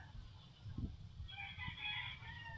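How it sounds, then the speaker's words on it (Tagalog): A rooster crows faintly in the distance over quiet outdoor background noise, with a couple of soft low thumps before it. "Oh, may manok pa oh."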